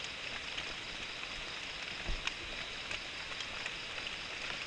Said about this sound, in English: So the rain started.